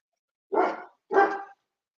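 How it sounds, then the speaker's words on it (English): A dog barks twice in quick succession, two loud, close, full barks about half a second apart with silence around them. "I'm going to let him bark."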